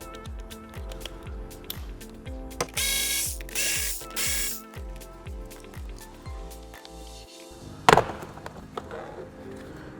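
A hand ratchet backs out 10mm bolts on a 2020 Nissan Rogue door panel, giving a long series of quick clicking pawl strokes in steady runs, close up, with a sharper clunk near the end.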